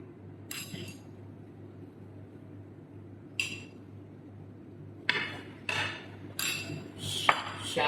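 Raw papaya halwa is stirred with ghee, milk and sugar in a pan. A spatula clinks and scrapes against the metal in a few short, separated bursts over a quiet background.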